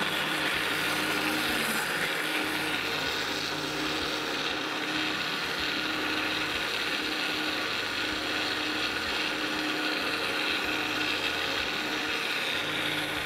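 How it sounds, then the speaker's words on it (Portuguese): A blender runs steadily and loudly, whirring through orange juice, coconut milk, mango and ginger with a continuous grinding, churning roar that holds from start to finish. "Eu tô batendo aqui, então, suco de laranja, leite de coco, manga e gengibre."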